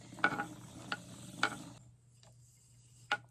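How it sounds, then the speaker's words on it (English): Yarn is wound by hand onto a cake winder, heard as a few faint, sharp clicks and ratchet-like ticks from the mechanism over a low steady hum, with pauses between turns and no talking. "hold it in my hand and wind it onto the cake winder or ball winder"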